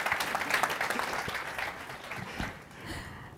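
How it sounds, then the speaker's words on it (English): Audience applause for the chief economist at an event on skills in the Africa region, a dense burst of clapping that thins out over a few seconds, moderately faint with no talk. "Could you give him a bigger applause?"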